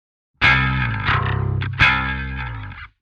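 Electric bass run through the Parallax X plugin, transposed down four semitones, plays a few heavy distorted notes with a gritty, effected tone, loud and alone for a few seconds.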